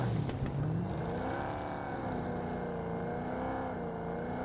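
A car engine in PUBG Mobile drones steadily at close range, its pitch wavering up and down as the vehicle drives on, continuous and fairly loud with no talk.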